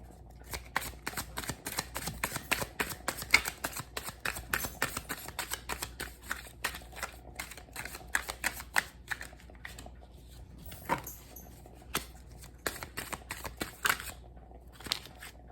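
Tarot deck shuffled by hand in long continuous runs of crisp card riffles and slides, close and fairly soft, with brief pauses between bursts and no voice.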